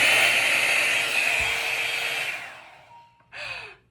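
A hair dryer blows hair with a loud, steady whirring whine for about two and a half seconds, winds down, then is switched on again for a short burst.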